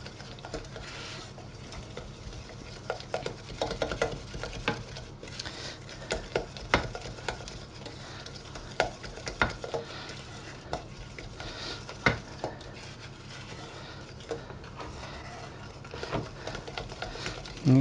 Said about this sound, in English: The sugar won't quite dissolve, but just need to beat this together.